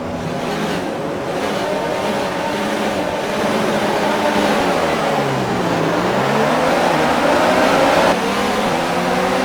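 Formula 1 cars roar off the line at the start of the Australian Grand Prix in the F1 2019 racing game, a loud, sustained engine whine climbing and sweeping in pitch as the pack accelerates together.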